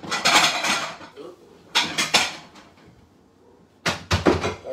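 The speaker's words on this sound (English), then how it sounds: "I'm going to take a little plate out here" A small plate comes out of a kitchen cupboard with three clusters of clattering knocks and bangs of door and crockery, separated by short quiet gaps.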